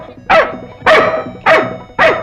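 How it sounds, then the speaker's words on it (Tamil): A dog barks four times in steady succession, loud and close, each sharp bark tailing off before the next. "ஏன் உன்னை பார்த்து நாய் குலைக்குது?"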